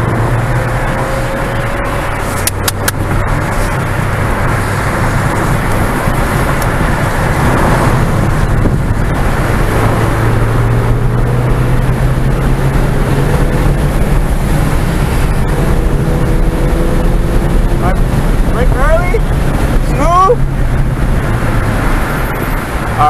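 Ford Fiesta ST on Shenandoah Circuit, heard from inside the car as the throttle opens, with a loud continuous engine drone rising in pitch over several gear pulls, under heavy road and wind roar.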